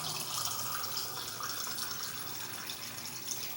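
Water pours steadily into a pot for cooking rice, a continuous close splashing rush with no pauses or talk.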